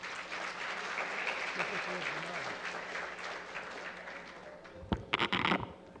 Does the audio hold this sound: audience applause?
yes